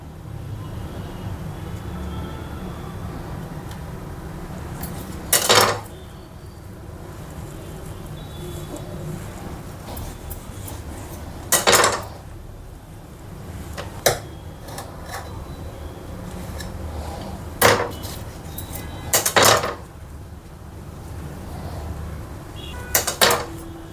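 Knife slicing straight through stacked homemade samosa pastry sheets on a board, producing several sharp, isolated cutting strokes spaced seconds apart over a low steady room background.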